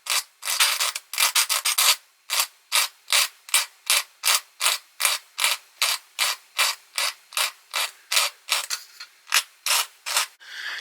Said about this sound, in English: getting a sanding stick, and then we can just sand it back to create that curvature